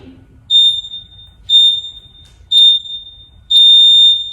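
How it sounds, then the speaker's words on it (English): Four evenly spaced, sharp electronic workout timer countdown beeps, one per second, the last held slightly longer, over a quiet low background hum. "you'll hear a little bit of beep"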